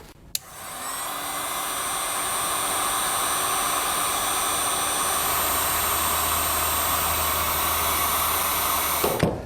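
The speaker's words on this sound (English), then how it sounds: "then we'll use a heat gun to shrink down our connector" A heat gun starts with a click, then blows a loud, steady roar while shrinking a wire connector during an air compressor installation. It runs nonstop for several seconds and then shuts off at the end.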